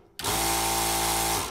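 A 12V air compressor in a camper trailer electrical setup starts abruptly and runs with a loud, steady close motor whine and buzzing hum, holding constant for over a second before easing off slightly, with no talk.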